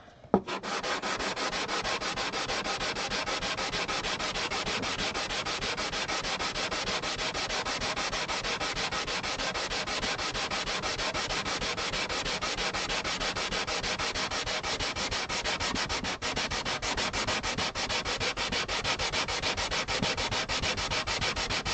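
Rosewood on an acoustic guitar being hand sanded, a steady, continuous rasp of rapid close strokes running without pause and with no voices.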